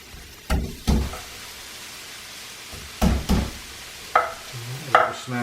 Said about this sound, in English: So we're going to just chop this garlic up.